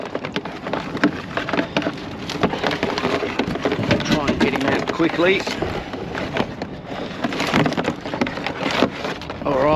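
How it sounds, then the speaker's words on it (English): Rain pours steadily over a mangrove creek in a dense, continuous hiss of drops on water and surfaces, close and loud, while someone talks through it. "And here comes the rain."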